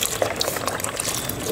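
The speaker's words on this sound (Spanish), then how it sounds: "Le voy a agregar también el litro de leche." Milk poured from a container into a pot while making rice pudding, a steady liquid splashing and trickling close up, moderately loud, with no talking.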